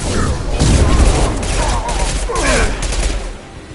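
Pistol gunfire in the Mass Effect 2 video game, a burst of loud overlapping shots and booms at close range over a dense battle background, with faint voices mixed in.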